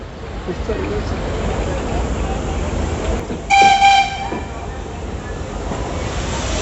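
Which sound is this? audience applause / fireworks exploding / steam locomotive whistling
steam locomotive whistling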